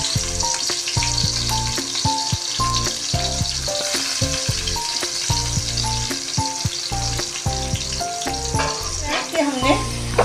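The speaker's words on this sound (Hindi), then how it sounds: "अब हम इसे डाल रहे हैं प्याज" Onions frying in about a cup of hot oil for Karachi-style biryani, a continuous bright sizzle with occasional stirring. It sits under prominent background music throughout.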